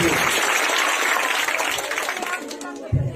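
An audience applauds loudly in a steady wash of clapping that slowly thins out, with a voice speaking over it.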